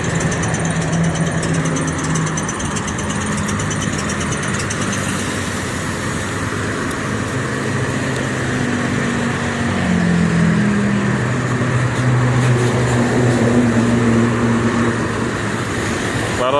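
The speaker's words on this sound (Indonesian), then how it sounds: "Suara mesinnya berisik." The engine of an ALS 310 bus from Surabaya runs in a steady, noisy idle with a low rumble and droning hum, loud and close throughout, no voices.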